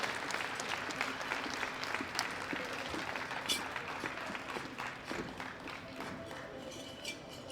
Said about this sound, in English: Give them a big round of applause as we escort all of our athletes off the platform.